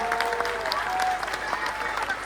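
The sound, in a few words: audience applause after children's drama performance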